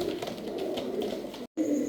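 Low, soft cooing of Lotan pigeons repeats steadily, close by, with a brief cut near the end.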